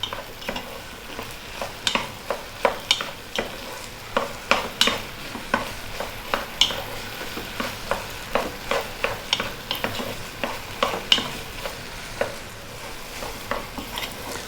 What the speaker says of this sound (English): really want to cook the paste out, get it incorporated into the beef with the flour